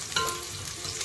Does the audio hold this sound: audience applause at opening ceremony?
no